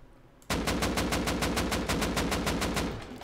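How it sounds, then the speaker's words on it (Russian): AK rifle fire in the Rust video game: after half a second of quiet, a rapid, loud burst of about fifteen evenly spaced shots in a steady rhythm, sustained to the end. "И сразу же, чтобы проверить разницу, опять же, темп стрельбы простым калашом."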